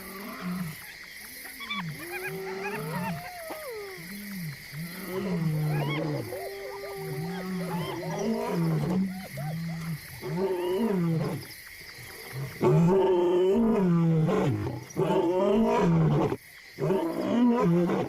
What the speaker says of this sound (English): The males roar more enthusiastically at night, and their declaration carries 5 miles along the Luangwa Valley.